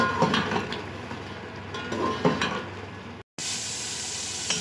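Chicken sautés in a pan for bhindi gosht, a continuous sizzle broken by the clink and scrape of a spoon against the pan, then a brief dropout before the frying hiss resumes.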